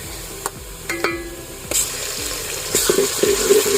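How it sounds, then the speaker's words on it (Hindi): Garlic-ginger paste sizzles and fries in a hot pan while a spoon stirs and scrapes with a few clinks, close by and steady. "अच्छी तरह से फ्राई कर लेंगे।"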